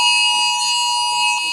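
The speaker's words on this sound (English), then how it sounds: "This is the alarm, by the way, that we all get on our phones here in Doha when there's an urgency." A national emergency alert alarm sounds on phones in Doha, Qatar, a loud, steady, piercing electronic tone that holds without a break for the whole span.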